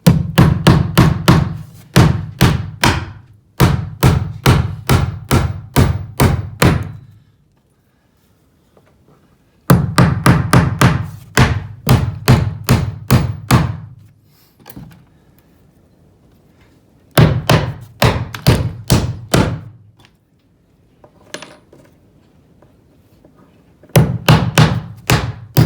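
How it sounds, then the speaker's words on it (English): A hammer drives nails into a piece of 2x4 lumber during subfloor replacement, with loud, close, evenly paced strikes in four separate runs of about eight to ten blows each, separated by pauses. "now we got to put our nails into our piece of 2x4"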